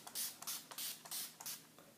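Several quick spritzes of Urban Decay All Nighter setting spray misted across a face, short hissing bursts in an uneven rhythm, close and fairly soft, with no talking.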